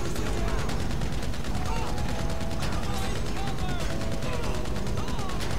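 Rapid video game gunfire from GTA V crackles in dense, continuous bursts over a busy soundscape of game effects and noise, loud and close throughout.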